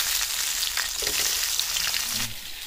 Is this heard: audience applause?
no